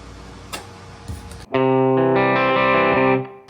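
An electric guitar with a clean tone through an HX Stomp with light compression and ambience plays a few soft picked notes, then one loud sustained ringing chord that fades out, close and without talk.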